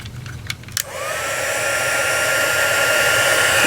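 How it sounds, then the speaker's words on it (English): A heat embossing gun starts with a click and quickly rises to a steady, loud blowing whir that holds without a break while it heats up to melt embossing powder on a card, with no talking. "It takes a little bit of time for your gun to heat up. Once it does, it'll start melting that powder right away."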